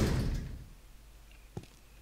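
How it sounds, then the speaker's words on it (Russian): An iron gate in the Resident Evil HD Remaster mansion grounds swings open with a heavy metallic thud and a fading rumble, followed by a couple of faint clanks near the end. "Причем это какая-то железная калитка."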